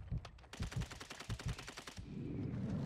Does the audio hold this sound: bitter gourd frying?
no